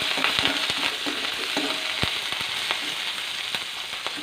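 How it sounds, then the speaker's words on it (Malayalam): Green chillies and curry leaves fry and get stirred in a hot pan of oil for lemon pickle, with a steady dense sizzle and the scrape of a spoon in short repeated strokes, close up, with no voices. "കുറച്ച് കറിവേപ്പില കൂടി ചേർത്ത് കൊടുക്കാം. എല്ലാം ഒന്ന് മിക്സ് ചെയ്യാം."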